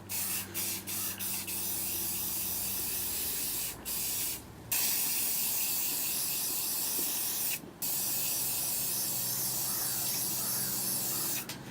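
A Rust-Oleum khaki spray paint can hisses in several quick short bursts, then in longer continuous sprays with brief pauses between them, close and alone.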